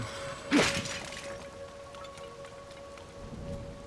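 A burst of lightning and thunder crackles near the start of a rainstorm in the video game The Legend of Zelda: Tears of the Kingdom, followed by a steady rain wash and a faint sustained tone.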